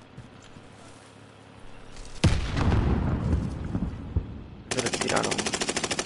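Video game gunfire bursts out loudly as a rapid automatic volley, then a dense chatter of repeated shots follows with a distinct pulsing rhythm near the end, with a brief voice speaking over it.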